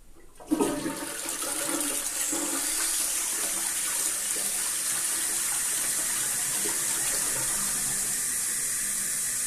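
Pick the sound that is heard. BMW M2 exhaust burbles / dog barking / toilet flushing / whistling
toilet flushing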